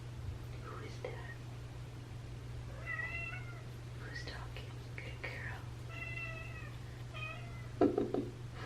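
An anxious foster cat meows repeatedly in short, plaintive calls over a steady low hum, with soft whispered talk between the meows and a few light knocks near the end.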